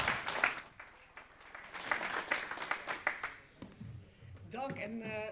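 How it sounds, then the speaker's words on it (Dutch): Audience applause at an indoor presentation, a dense patter of clapping that thins out, followed by a speaker's voice at the end. "Hartelijk applaus."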